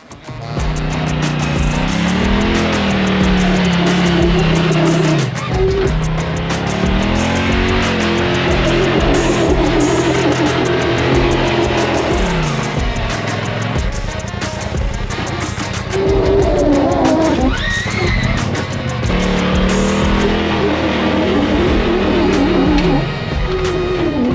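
A UTV on sticky tires driving across a concrete slab during a 2023 tire shootout, its engine droning loud and close with steady revving that rises and falls throughout, no voices.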